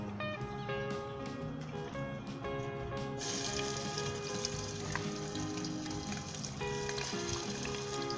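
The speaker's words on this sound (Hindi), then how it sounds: "उसे 2 से 3 मिनट तक हम फ्राई करेंगे, लाइट गोल्डन ब्राउन होने तक।" Onion, ginger and garlic fry in vegetable oil in a pot, giving a steady close sizzle with crackling pops, while a bright tonal hum runs through parts of it.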